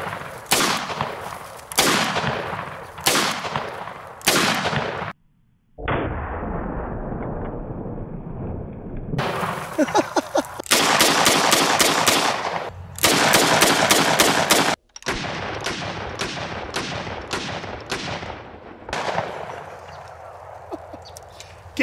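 Loud, sharp gunshots from a Smith & Wesson Model 629 .44 Magnum and a Model 610 10mm revolver, fired one after another in several bursts with brief pauses and a rumbling stretch between volleys.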